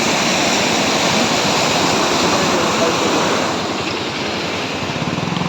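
Rushing water pours steadily in a loud, continuous broadband roar as a large pond overflows after rain in Suryapet, India, cascading nearby.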